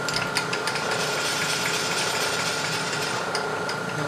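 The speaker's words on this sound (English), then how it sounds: "when the end mill touches the part, it's pushing the part sideways against the solid jaw" Steady, dense machining drone of an end mill cutting a metal part clamped sideways against the solid jaw of a vise, stock being squared for a knurling tool holder, continuous and loud with a low motor hum and faint rattling.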